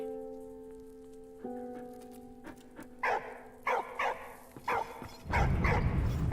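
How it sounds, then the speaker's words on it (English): Dog barking in the video game Valiant Hearts 2, a handful of short separate woofs spaced across the middle over a sustained musical tone, followed by a louder burst of noise at the end. "It's a dog."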